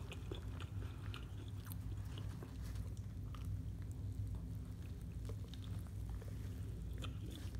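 Someone bites and chews an air-fried shrimp po' boy sandwich up close, with soft, moist crunching and chewing repeating over several seconds against a low background hum.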